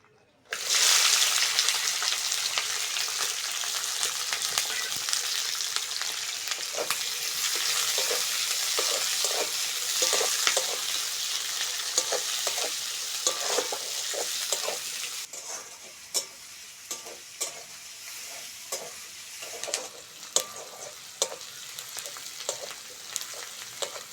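Onion, green chili and peas sizzle and fry steadily in hot oil in a pan, a loud continuous crackle with stirring scrapes becoming more distinct toward the end.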